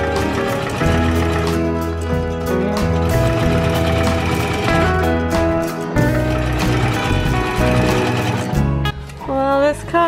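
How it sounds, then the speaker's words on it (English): A sewing machine stitches along a pinned curtain hem, running as a loud, steady, close mechanical hum and rattle that pauses briefly near the end. "and now I'm gonna sew."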